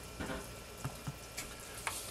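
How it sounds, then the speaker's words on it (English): Cinnamon rolls sizzle and crackle steadily in a pan up close, with a few soft clinks and pops scattered through it. "It's sizzling in the pan."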